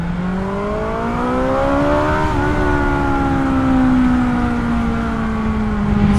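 A BMW S1000 motorcycle engine, 165 hp, drones loud and steady at high revs, rising slightly in pitch then easing and holding a sustained roar throughout.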